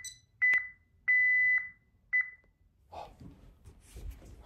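House security alarm keypad beeping just after entering the door: three steady electronic tones, short, long, then short, followed by rustling and handling noises.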